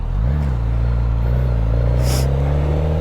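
A 2024 Suzuki GSX-S1000 motorcycle engine swells quickly, then holds a strong, steady drone close by, with a brief gust of wind noise partway through.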